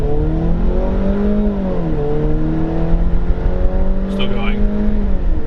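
A 2015 Jeep Cherokee Sport accelerates hard from a standstill toward 60 with traction control off, its engine droning loudly and steadily, pitch climbing then dipping at a gear change before rising again, with a brief voice partway through.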